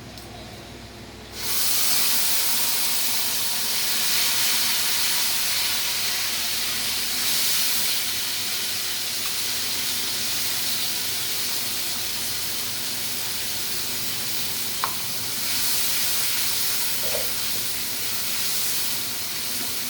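Food in a hot pan with oil steams and hisses in a home kitchen, a loud, steady, broad hiss that begins abruptly and continues without a break, close by, with no voices.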